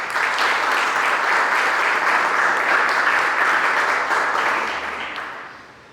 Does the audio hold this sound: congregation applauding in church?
yes